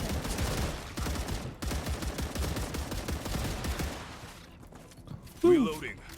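Bursts of rapid gunfire against enemies in StarRupture, a video game, loud volleys through the first four seconds, then fading into quieter mechanical clatter and a short sharp creature-like cry near the end.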